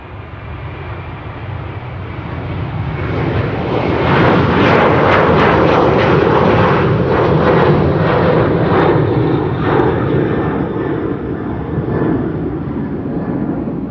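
An El Al jet airliner rolls and takes off at Amsterdam Schiphol, its engines a loud, steady roar that swells to a peak and holds with a rumbling, broadband wash.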